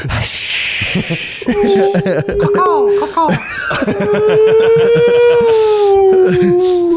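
A person imitates whale song with long, sliding, moaning vocal tones that rise and fall, loud and close, broken by chuckles and laughter from others nearby.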